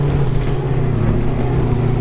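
A 1700HP sandrail roars steadily on the Glamis dunes, its engine a loud, continuous close-up drone with no break or talk.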